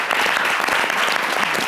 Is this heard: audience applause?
yes